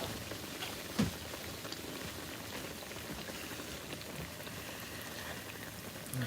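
Oreos deep frying in a bowl of hot oil, a steady dense bubbling crackle like light rain that runs evenly throughout, with one brief knock near the start.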